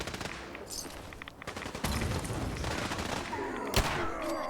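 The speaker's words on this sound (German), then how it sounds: "die 44er ist so eine geile, starke Waffen" Rapid gunfire from a .44 revolver in Fallout 4, several sharp shots cracking over a dense wash of battle noise, one especially loud report near the end.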